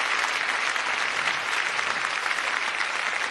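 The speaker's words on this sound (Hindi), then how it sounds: "पत्नी नहीं देखे बस इस हिसाब से ताली बजाओ।" An audience at a comic poetry recital claps in sustained, dense applause, steady and fairly loud throughout with no break.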